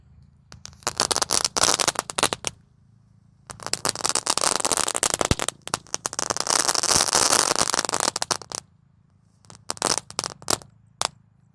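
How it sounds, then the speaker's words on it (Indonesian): Telur dino firecrackers crackle in several dense bursts after two packs are lit together outdoors. Rapid sharp pops come in loud clusters separated by short pauses. "Lanjut di sini ada telur dino pretek, kita nyalakan 2 pak sekaligus bosku."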